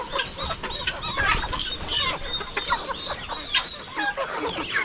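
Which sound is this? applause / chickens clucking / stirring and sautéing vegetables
chickens clucking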